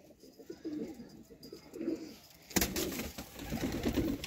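Pigeon cooing from a male crossbred pigeon, soft low coos repeating in bursts, joined after a couple of seconds by louder fluttering and rustling close by, with no voices.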